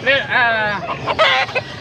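A gamecock crows loudly and close by at a poultry market in Pampanga, a single harsh, drawn-out call breaking into choppy clucking notes at the end.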